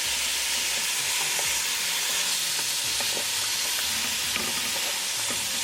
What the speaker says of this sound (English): And now keep stirring.